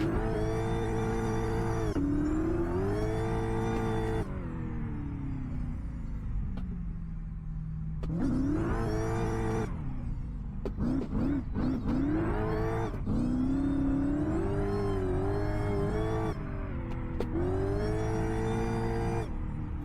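A supercharged car in the Assetto Corsa racing game revs hard while drifting, its engine note rising and falling through repeated throttle bursts and gear changes, loud and continuous with no voices.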